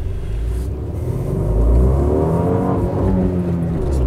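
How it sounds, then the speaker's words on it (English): A Fiat 500's small engine grumbles low and steady inside the cabin as the car slows toward a main road, a close, continuous rumble that swells slightly partway through. "it grumbles to a stop as we come out onto a main road now"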